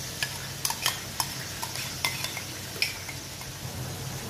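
Ginger garlic paste and yogurt frying in a pot while being stirred, with soft sizzling under a series of sharp spoon scrapes and clinks against the metal, moderately close and without talk.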